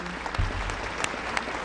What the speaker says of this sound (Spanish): Un aplauso para nuestro hermano Rafael Correa